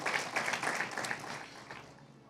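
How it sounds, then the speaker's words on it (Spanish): A church congregation breaks into applause, a soft, dense patter of many hands heard from a distance that fades gradually over a couple of seconds. "Dele un aplauso, aleluya"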